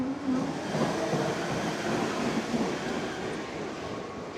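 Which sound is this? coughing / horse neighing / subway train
subway train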